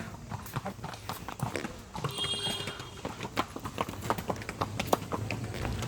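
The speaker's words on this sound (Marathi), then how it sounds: "हे बघा घोडे" Horse hooves clip-clop in an uneven walking rhythm on a hard surface at Matheran hill station, fairly close, with a brief high-pitched tone and outdoor background noise.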